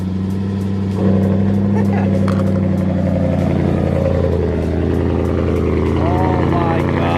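A freshly started BMW E92 M3 engine idles with a steady, deep rumble, loud and close, rising slightly in intensity after the first second while a person talks over it.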